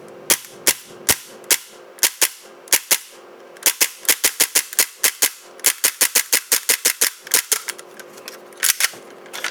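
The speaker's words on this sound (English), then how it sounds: "Now we're gonna just dry fire this one" Dry firing of a Tokyo Marui Hi-Capa airsoft pistol: a long run of sharp, snappy mechanical clacks, first spaced singly, then in rapid bursts, close and crisp with a quiet background.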